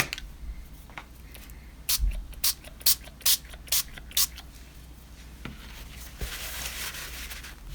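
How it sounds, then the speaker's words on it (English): Dina Wakley Media Gloss Spray in orange cheddar hisses out in a quick run of six short, sharp spritzes, evenly spaced and close up, followed by a softer, longer spray near the end. "So now I'm going to spray orange cheddar over it."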